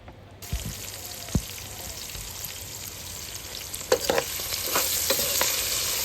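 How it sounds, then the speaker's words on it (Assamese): Onions frying in oil with cinnamon, dried chillies, bay leaves and cloves for chicken masala, a steady close sizzle with occasional stirring clatters and scrapes, no talking. "এই পিঁয়াজখিনি আপুনি ভালদৰে ফ্ৰাই কৰি ল'ব"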